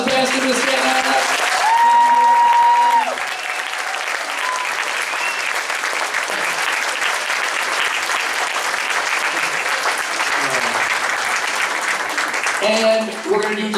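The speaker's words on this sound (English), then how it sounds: "All of our band students, please stand up and get a round of applause" Concert audience applause for the band students at a festival, a sustained wash of many people clapping loudly for several seconds, with sustained musical tones near the start and end and a voice near the end.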